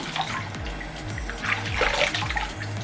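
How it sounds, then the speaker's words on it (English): Close-up watery splashing and sloshing as handfuls of water are poured repeatedly onto curly hair in an uneven rhythm over a low background hum. "instead of dunking my hair, I'm just gonna bring some water up to it."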